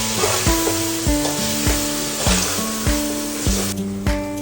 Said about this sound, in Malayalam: നല്ലോണം ഇളക്കി കൊടുക്കുക.